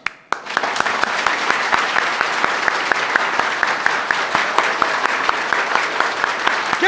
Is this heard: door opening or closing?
no